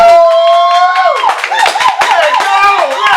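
An audience claps for the behind-the-scenes crew at a hustler segment show, rhythmic claps ringing out loudly beneath a prominent voice.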